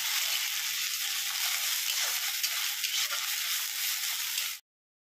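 Onions with a few panch phoron seeds frying in a hot wok give a dense, steady, close sizzle that hisses evenly for several seconds and then cuts off abruptly, with no talking.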